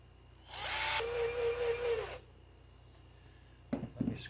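Power drill whirring as it mixes a batch of epoxy for an RV bathroom sink replacement, a loud steady burst lasting about a second and a half, then a quiet pause and a couple of short scraping knocks at the end.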